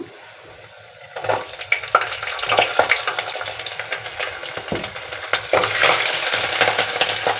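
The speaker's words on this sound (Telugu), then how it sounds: "కొద్దిగా వేగనిద్దామా అల్లం వెల్లుల్లి పచ్చివాసన పోయేదాకా" Finely chopped ginger and whole garlic cloves fry in a pan, a close, steady sizzle that rises as they hit the oil, with occasional scrapes and stirring clatters and no voices.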